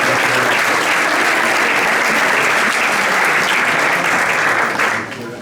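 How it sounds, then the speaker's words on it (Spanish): An audience at an award ceremony claps loudly and continuously, a dense wash of applause that holds steady and then tapers off at the very end. "Un fuerte aplauso a estas preciosas palabras."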